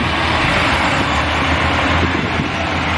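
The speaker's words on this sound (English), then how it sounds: "Here comes the train." A train approaching, heard as steady broadband rumble and rushing noise with low drone and wind buffeting, loud and continuous with no talk.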